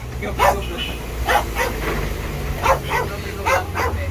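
A dog barks and yips in a string of short, sharp bursts, about eight over four seconds, close by, with a low steady hum underneath.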